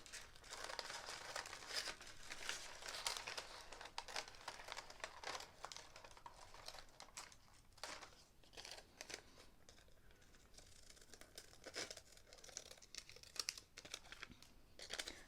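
Traced paper applique designs cut out with scissors, heard as continuous close crinkling and snipping of paper, fairly quiet and steady throughout with no talk.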